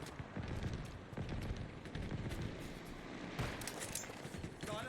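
Wasp aircraft gunfire pounds a team's base in Halo Infinite: rapid bursts of automatic fire and blasts in a dense, busy game mix. A voice is faintly present underneath.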